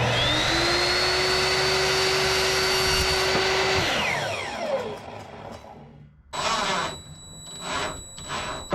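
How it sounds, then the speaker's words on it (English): A power miter saw winds up with a rising whine, holds a steady high-pitched drone, then spins down and falls away, followed by a few clattering knocks and a shorter burst as cedar plank is cut for camper van walls. "go cut it with the miter saw"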